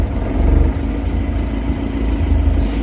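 Boat outboard engine running steadily after starting, a continuous low rumbling drone with a slight pulsing throb, heard close and alone with no talk.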